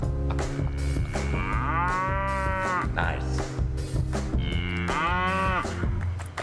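A cow moos loudly twice in long drawn-out calls close by, with a brief spoken word between them.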